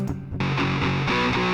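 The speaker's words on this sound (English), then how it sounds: "So, whereas FireAmp sounds like this," Electric guitar through the Airwindows FireAmp amp-simulator plugin: a thick, distorted chord riff with steady rhythmic strums, loud and saturated, with no other sounds around it.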